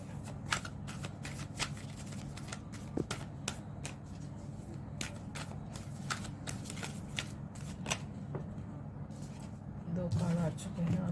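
Tarot cards riffled and shuffled in a quiet room, a steady run of soft rapid flicks and snaps with sharper taps as cards are drawn, close and moderately loud, with a faint voice near the end.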